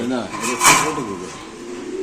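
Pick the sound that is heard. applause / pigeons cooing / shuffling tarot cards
pigeons cooing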